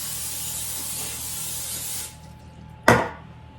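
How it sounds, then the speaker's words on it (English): Cooking spray hisses steadily onto a pan in a sink for about two seconds and then stops, followed by one short, louder spray burst. The sounds are close, with no talking. "I spray it in the sink so it doesn't get all over the counters."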